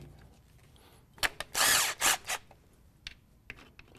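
A power tool with a Torx bit spins out the transmission pan bolts on a Mercedes 722.9 gearbox, giving a few short, loud whirring bursts separated by pauses, with a faint clicking and rattle between them.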